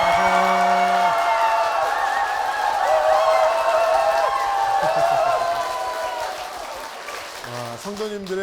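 A church congregation in a Korean television broadcast applauds with sustained clapping and some cheering behind bright musical tones, with voices talking over the sound as it thins out toward the end.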